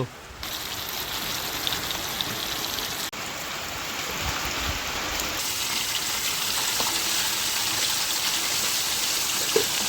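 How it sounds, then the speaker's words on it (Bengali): Steady light rain pattering outdoors, an even soft hiss of drops falling throughout, with no voices. "বাইরে এরকম ঝিরিঝিরি বৃষ্টি পড়ছে"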